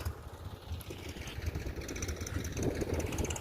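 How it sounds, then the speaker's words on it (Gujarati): A tractor engine approaching across a farm field, a low rumbling drone heard from a distance that swells slightly toward the end, with steady outdoor background noise. "સામેથી જો ટ્રેક્ટર આવે છે બીજો પટ્ટો કરવા માટે"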